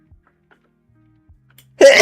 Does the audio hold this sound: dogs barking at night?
no